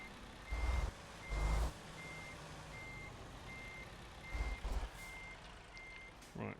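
A truck in American Truck Simulator backs up with a steady series of evenly spaced reversing beeps over a low engine hum, with a few heavy low thumps and air bursts along the way.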